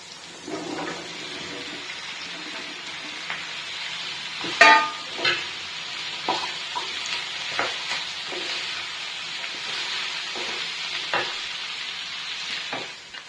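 Okra (ladies' finger) tipped into a pan with onions and frying, a steady broadband sizzle with a louder clattering burst near the start and scattered scraping stirs afterward, close and alone without talk.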